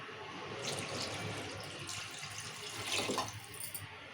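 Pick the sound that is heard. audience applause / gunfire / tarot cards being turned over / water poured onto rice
water poured onto rice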